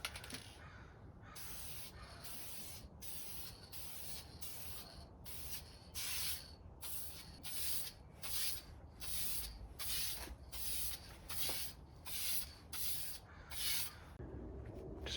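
Repeated bursts of aerosol lacquer sprayed onto a reclaimed-wood lap steel guitar, a steady rhythm of hissing blasts separated by brief pauses, close and fairly loud with no talk.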